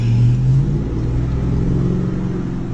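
An engine runs on injected hydrogen and oxygen in a converted car, with a steady mid-pitched rumble and a brief higher whine at the start. It sounds close and loud, with no talk.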